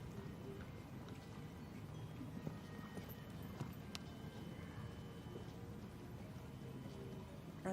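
Hoofbeats of a dressage horse cantering in a para dressage team test at a European championship, a faint, steady rhythmic clip-clop in a large arena with low background noise.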